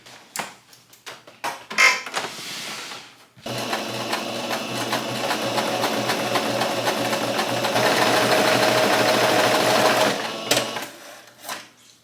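A sewing machine stitches a seam in one long continuous run of fast mechanical whirring, preceded and followed by short bursts and handling clicks, close and clear.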